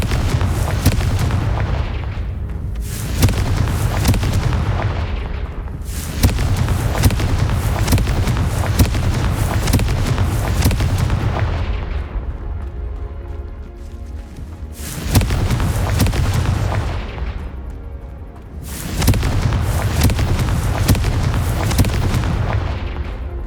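Confringo blasting spells in Hogwarts Legacy go off in a string of loud, booming explosions. Each blast roars for a few seconds and then decays in long bursts, one after another, with no voices.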